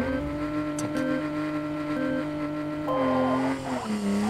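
A car drifts sideways in a racing video game, engine droning at a steady pitch as tires squeal, then the revs climb sharply near the end; close and continuous with no talk.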